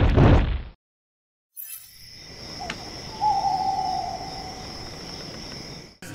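Birds call outdoors in the cold early morning, a faint hooting note standing out over a thin, steady high insect-like drone and soft ambient hiss.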